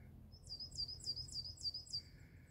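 Crow-like birds call at an abandoned children's camp, giving a run of about six quick, rasping caws in a row, fairly clear against a quiet, still background.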